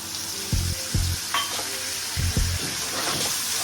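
Grated onions dropped into hot oil with whole cumin seeds in a pan, a few sharp spluttering bursts over a steady close sizzle while preparing kadhai paneer.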